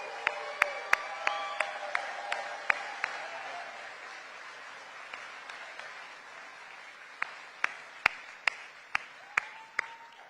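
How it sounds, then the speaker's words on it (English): Applause from an audience at a political rally in Henderson, Nevada, with a wash of clapping and sharp individual claps cutting through, rising and thinning over several seconds, while a voice carries on over it. "Let's give them a round of applause for everything they do and all of those who help us."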